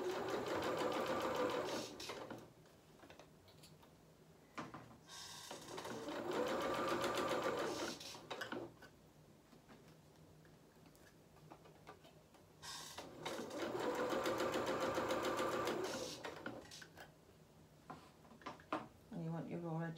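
A sewing machine stitches a doll's angel dress in several bursts of rapid whirring with quiet pauses between. Someone talks softly during the pauses.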